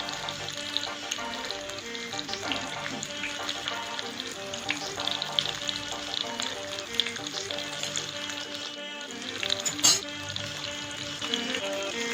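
Chicken kabiraji cutlet frying in a pan of oil, a steady close sizzle with light crackles and pops running throughout, no one speaking.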